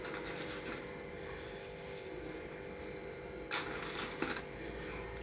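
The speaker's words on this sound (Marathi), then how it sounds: "आता आपण ह्याच्यावर मोहरी टाकून घेणार आहोत." Mustard seeds hit hot oil and sputter with scattered, faint crackling pops and a soft rustle, heard close under a low background with no clear talk.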